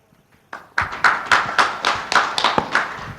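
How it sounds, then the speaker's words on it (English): Several pairs of hands clap in a quick, uneven run at a football summit, starting sharp and close after a brief quiet, with individual claps clearly separated rather than merging into full applause. "that's why very fast to clap"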